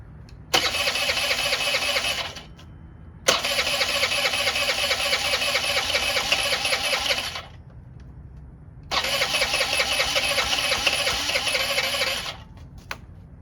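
A Honda Elite 80 two-stroke scooter with a rough-running carburetor cranks and buzzes in three separate loud bursts, each lasting a few seconds, with short quiet gaps between them. It is close, with no talking.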